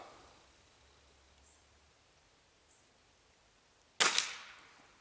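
A Gamo Swarm Maxxim air rifle fires a single pellet, one sharp, loud crack standing out from quiet surroundings, followed by a short decaying tail.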